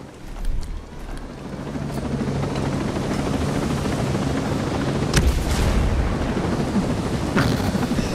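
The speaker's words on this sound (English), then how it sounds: "All right, chopper's good now." Helicopter in the video game Ghost Recon Breakpoint, a loud sustained rotor roar that fills the whole stretch, with a brief burst near the start and a sharp crack-like hit midway.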